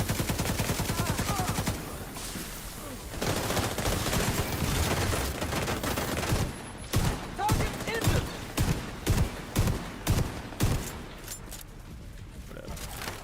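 Shotgun fire in The Division 2, a run of loud, sharp blasts with other game sounds and some talk mixed in, the shots coming in a steady rhythm through the second half.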